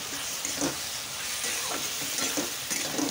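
Boiled taro and potato tossed with chili and turmeric powder sizzle steadily in a hot pan for a prawn curry, with a bright continuous hiss broken by scraping stirs.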